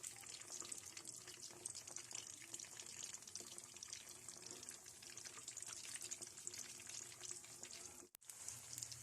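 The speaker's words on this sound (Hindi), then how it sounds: "ऑयल हमारा गर्म हो गया है, अब इसमें मैं पकौड़े बना के डालती जाऊँगी" Aloo gobhi pakoras, hand-formed potato and cauliflower fritters, fry in hot oil over a low flame with a steady, faint, crackling sizzle that runs almost unbroken.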